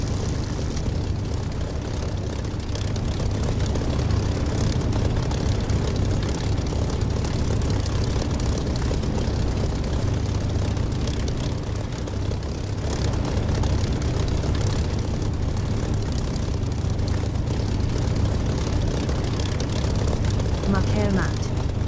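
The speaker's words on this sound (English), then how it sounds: "Okay, I'm going to take off." A propeller aircraft in the DCS flight simulator throttles up for takeoff, its engine drone loud and continuous throughout, with talk mixed in.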